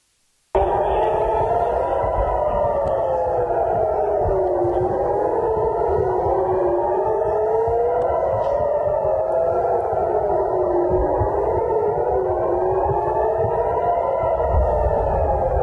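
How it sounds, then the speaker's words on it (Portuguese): Air raid sirens in Israel wail continuously with rising and falling tones that overlap each other, loud and sustained, with a heavy echoing, distorted quality. "e as sirenes tocando de maneira muito forte"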